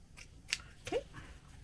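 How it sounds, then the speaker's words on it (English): Scissors make a couple of quick, faint snips while trimming paper for a junk journal, quiet and close. "I'm just going to trim off a little bit"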